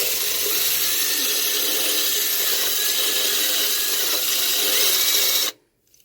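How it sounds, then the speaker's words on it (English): A power tool grinds surface rust off the metal floor of a van being converted into a camper. It makes a loud, continuous whirring scrape that runs steadily and then cuts off abruptly near the end. "So we just want to remove all the surface rust that we can."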